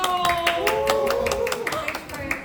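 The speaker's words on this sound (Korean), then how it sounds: "박수!" Guests clap together at a birthday cafe celebration, a quick run of sharp hand claps with voices cheering and talking over them.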